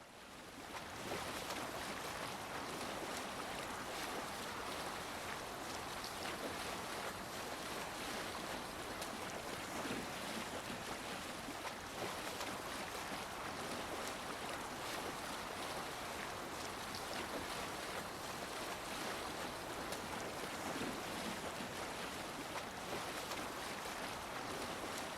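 Sailing ship at sea in the video game Assassin's Creed Valhalla: steady wash of waves and rushing wind around the hull, continuous and fairly quiet with no talking.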